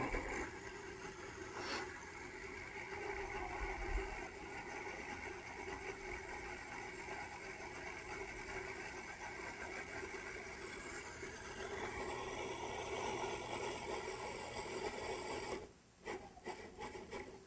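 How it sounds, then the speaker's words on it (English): A steady motorized whir and grinding rasp runs continuously, close and fairly loud, then briefly cuts out and restarts near the end. "Just throwing it on the food processor."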